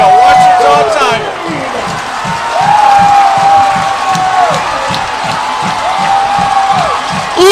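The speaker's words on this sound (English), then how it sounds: "what an amazing crowd" Loud, roaring college football stadium crowd at a night game between Ouachita Baptist and Harding, with cheering and shouts under a rhythmic pulsing drum beat and a sustained tonal cheer, while someone talks excitedly over it.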